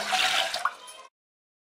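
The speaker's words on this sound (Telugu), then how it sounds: "ఈ గిన్నెలో కొద్దిగా వాటర్ పోసుకోండి." A little water is poured into a metal bowl for steaming rice-flour puttu, a short close splashing trickle that fades and stops abruptly after about a second.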